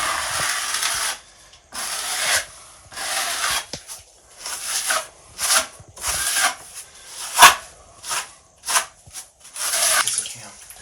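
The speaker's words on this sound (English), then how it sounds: "all we're doing now is just sponging a little bit to make it where it's a little smoother" A wet sponge rubbed over thinset on a Wedi shower wall panel, close rhythmic scrubbing strokes in short bursts with brief pauses between them.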